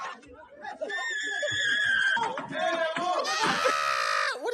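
Loud, shrill screaming and shrieking from a crowd of people inside a school in France, with overlapping high-pitched voices, laughter and chatter running continuously and intensifying toward the end.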